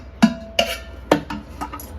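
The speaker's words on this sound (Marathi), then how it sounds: "पाणी घातल्यानंतर हा डबा आपल्याला कुकरमध्ये ठेवायचा आहे" A metal container set down inside a pressure cooker with a little water at the bottom, several sharp metallic clanks and knocks spaced over two seconds, close and fairly loud with no talking.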